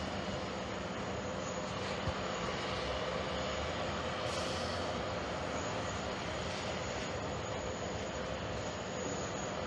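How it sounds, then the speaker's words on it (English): A Qatar Airways jet taxis at JFK Airport, its engines giving a loud, steady roar and hiss that fills the whole stretch without letting up. "As you can see, Qatar Airways taxiing."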